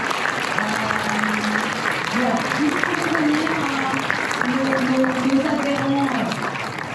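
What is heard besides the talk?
audience applause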